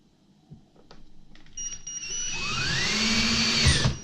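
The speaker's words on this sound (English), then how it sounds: "Right, so drill a couple of holes. I'll drill it on the side of the table" A power drill boring holes into the side of a table, the motor whine rising and holding steady as the bit bites in, close and fairly loud after a few faint bumps.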